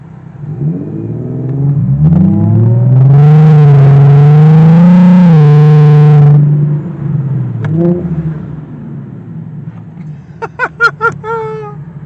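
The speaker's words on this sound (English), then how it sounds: "it's definitely turbocharged because you can hear his turbo sound" A turbocharged Audi engine climbs through a long, loud rev with a rising harmonic whine, holds high for a few seconds, then drops back to a rough idle, followed by a few quick sharp blips.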